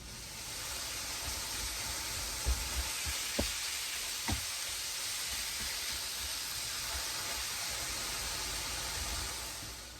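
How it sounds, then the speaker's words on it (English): Ground meat and onions for old-fashioned American goulash brown in a skillet on the stovetop. A steady, dense sizzle and hiss fills the whole stretch, with a few faint clicks and no talking. "got my meat browning in the skillet"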